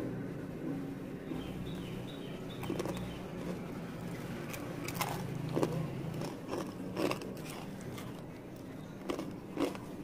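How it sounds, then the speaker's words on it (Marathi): Crisp fried bhajani chakli snapped apart by hand yields a scattering of sharp dry cracks and crunches, some louder than others, over a faint background murmur. "इथे बघू शकता चकली तोडून दाखवत आहे, आवाज ऐकू शकता"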